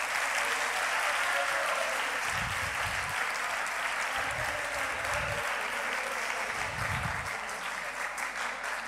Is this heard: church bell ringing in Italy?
no